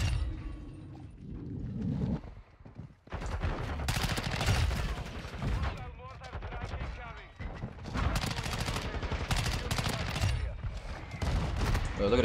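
Rapid bursts of shotgun and other gunfire from a Modern Warfare II match, loud and near, firing in repeated clusters with short gaps between volleys.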